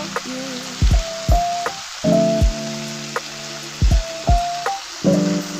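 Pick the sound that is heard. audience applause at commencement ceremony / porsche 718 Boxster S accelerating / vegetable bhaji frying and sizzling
vegetable bhaji frying and sizzling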